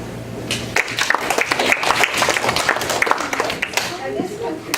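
An audience applauds at the close of a student public speaking and debate presentation: a dense, steady patter of many hands clapping for about five seconds, with crowd voices murmuring underneath.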